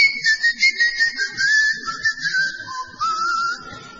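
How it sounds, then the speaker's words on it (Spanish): Sustained high whistling, alone with no speech: long drawn tones gliding slowly downward, broken into phrases with short pulses and a drop to a lower pitch near the end, close and clear. "Usted llega a la isla de Tracoda y oye los silbidos."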